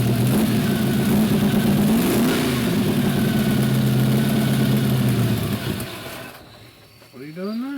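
A Chevrolet S10 truck fitted with nitrous oxide runs close by with a loud, rough engine note that rises and dips as it revs, then cuts off about six seconds in, leaving faint background sound.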